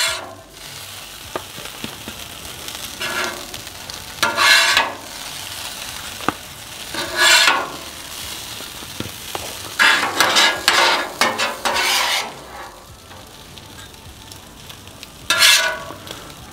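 Hash browns sizzle and crackle on a Camp Chef Gridiron griddle at a big outdoor breakfast, a steady fry broken by louder bursts of sizzling and scraping as they are stirred, with no talk.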